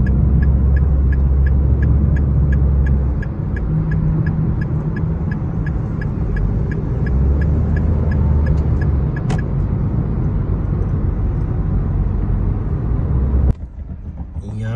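A car drives along a road toward an office on a short route near the airport, a steady engine and road rumble with a faint rhythmic ticking like an indicator, under someone talking.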